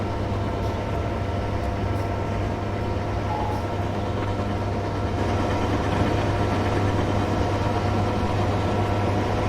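A train rumbles along steadily in Train Sim 2022, a low, constant engine drone with a faint rhythmic rail clatter and no talking.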